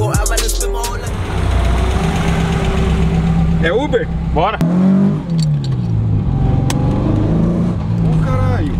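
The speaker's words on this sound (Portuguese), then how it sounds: "É um Gol com motor de Subaru" Modified VW Gol fitted with a Subaru engine runs steadily close by, a low rumbling idle with a few rising revs, while people talk over it throughout.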